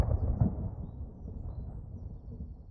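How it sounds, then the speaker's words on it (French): Low, rolling thunder from an approaching storm rumbles continuously, with a heavier swell early on before settling into a steady distant growl. "Il y a une tempête qui se prépare."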